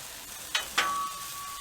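Smash burgers sizzling on a Blackstone griddle, a steady hiss punctuated by two quick scraping hits of a spatula pressing down, followed by a thin lingering ringing tone.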